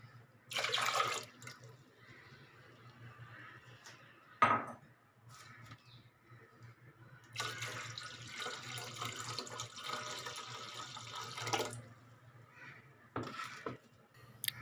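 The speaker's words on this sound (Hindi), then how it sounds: "अब इसके अंदर हम पानी इतना डालेंगे कि दाल हमारी भीग जाए" Tap water runs in bursts into a pot of soaked urad and chana dal for a mixed dal, with splashing and a clink of a utensil between pours, fairly quiet and close.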